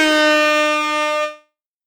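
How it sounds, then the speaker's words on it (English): One loud, blaring air horn blast holds steady for over a second, then cuts off abruptly into silence. "Air horn."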